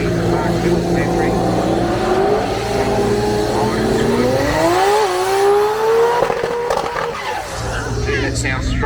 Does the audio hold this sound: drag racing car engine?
yes